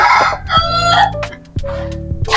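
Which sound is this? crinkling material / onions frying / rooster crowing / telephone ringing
rooster crowing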